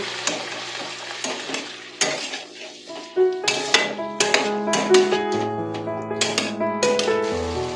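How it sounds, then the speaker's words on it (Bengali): Spice paste for sabji paneer being worked in a pan with a little added water, spoon scraping and clinking against the metal over a soft sizzle, with irregular strokes that grow busier and louder toward the end. "জল দিয়ে ভালো করে মশলাটাকে কষিয়ে নেব"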